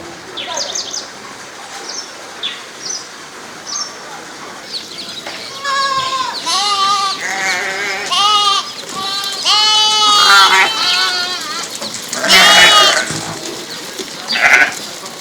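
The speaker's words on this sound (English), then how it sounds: "These are sheep. Here we have a good number." Sheep bleat on Heritage Farm in Kirema: a run of loud, close, wavering bleats from several animals, some overlapping, after a stretch of soft bird chirps.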